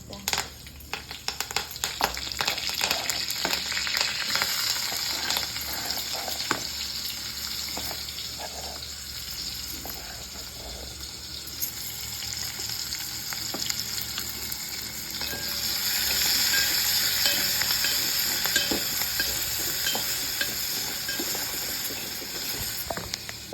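Mustard seeds and cumin sizzle steadily in hot oil left in the pan after frying okra. The bright frying hiss runs close and loud throughout, with small pops and stirring clatter.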